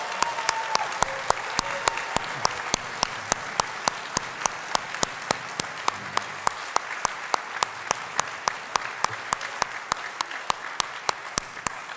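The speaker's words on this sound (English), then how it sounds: "Let's give them a round of applause." A forum crowd at a congressional candidates' event applauds student producers: dense, steady clapping sustained for about twelve seconds at an even level, with a regular ticking click running through it.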